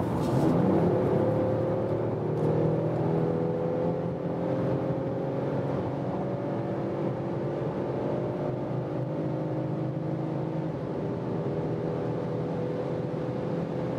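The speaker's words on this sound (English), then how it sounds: "now we can test how is the acceleration when we are already at speed from 120 kilometers an hour" Mercedes-Benz E-Class All-Terrain crossover wagon, facelift version, pulling hard from 120 km/h, a steady engine drone rising in pitch over road and wind roar, continuous and fairly loud from inside the cabin.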